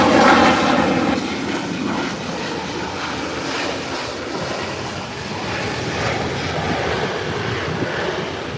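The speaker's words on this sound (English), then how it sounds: "And it has touched down." InterCaribbean Bombardier from Havana touching down, a loud rushing jet roar with a burst at the start that settles into a steady rolling rumble on the runway, no voices.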